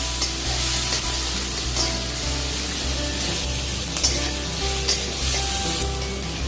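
Onions and green chillies fry in a pan for Rajasthani dal, giving a loud, steady close sizzle with stirring scrapes and brief clatters throughout and no voices.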